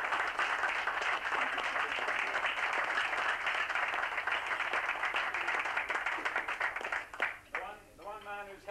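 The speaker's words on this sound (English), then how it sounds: "I wonder if we can just give a big round of applause" A press-conference audience at the 1988 Dubai International Rally claps steadily and densely for a driver's third consecutive Middle East Championship, then the applause thins out as a voice begins speaking near the end.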